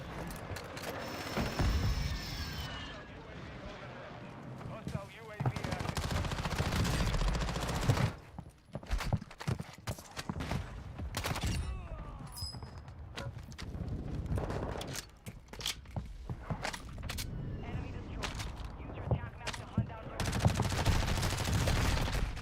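Warzone gunfire from a nearby fight crackles in repeated bursts and single shots, fairly loud and close, mixed with footsteps and movement sounds over the whole stretch.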